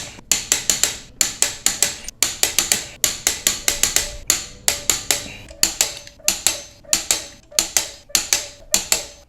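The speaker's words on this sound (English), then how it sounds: "So I'm gonna go ahead and just torque these in a crisscross pattern." Rapid ratchet clicking from a wrench tightening the wheel lug nuts on a Toyota 4Runner truck in a crisscross pattern, repeated short bursts of sharp metallic clicks with brief pauses between nuts, close and clear with no talk.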